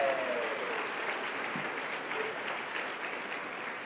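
Congregation applause during a Spanish-language church discipleship service, a steady moderate clapping from the crowd sustained throughout, somewhat distant and even.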